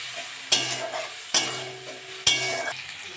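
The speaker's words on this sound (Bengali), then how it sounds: "আমি একটু জল দিয়ে মশলাটা কষে নেব।" Spice paste sizzling in a pan with a little added water while being stirred for an egg and soybean curry, three distinct scraping stirs over a steady soft fry, close and fairly quiet with no talk.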